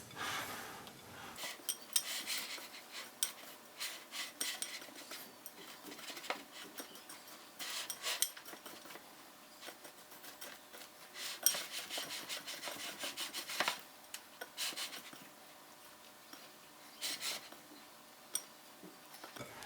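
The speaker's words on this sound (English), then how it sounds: "you're gonna mix it with your hands" Hands mixing tamale dough with pork lard and egg whites, soft squishing and rubbing strokes in uneven bursts, close but faint, with no voices.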